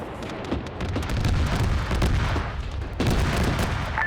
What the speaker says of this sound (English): That rocket strike was off by a grid.